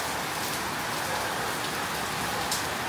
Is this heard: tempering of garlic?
no